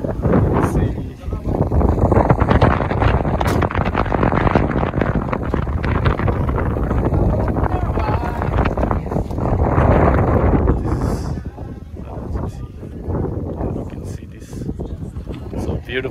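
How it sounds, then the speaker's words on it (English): Strong wind roars and buffets the microphone outdoors in Senapati, Manipur, in a heavy, continuous rumble that eases somewhat toward the end. "It's so windy out here."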